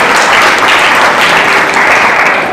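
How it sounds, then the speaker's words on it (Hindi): A church congregation claps in praise during a worship service, a loud, thick wash of many hands clapping at once, steady and continuous with no voices over it. "सही जवाब, ताली बजाकर प्रभु की महिमा करे।"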